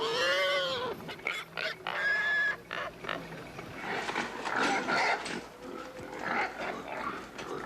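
Loud pigs squealing and grunting together at a pig farm near Hanoi, a dense chorus of overlapping calls that rises and falls, heard close up without any talking.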